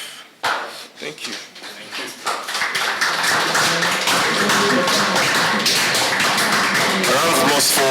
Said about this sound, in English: A round of applause for Arresta Divine School.